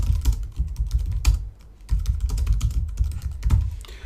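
Code being typed on a computer keyboard: rapid, close clusters of key clicks in uneven bursts, with a brief pause partway through.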